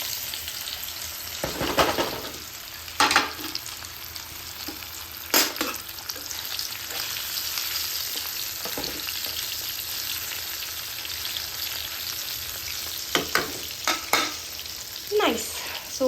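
Coated paneer frying in a pan: a continuous bright sizzle throughout, broken by several sharper crackling bursts and occasional stirring scrapes, close and steady.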